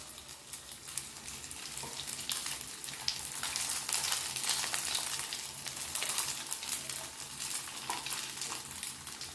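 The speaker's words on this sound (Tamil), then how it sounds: "இப்போ இதை லைட்டாக ஒரு 2 செகண்ட் ஃப்ரை பண்ணி எடுத்துக்குவோம்" Dough pieces fry in a pan with a soft continuous sizzle and crackle that swells a little midway, close and quiet, with no talking.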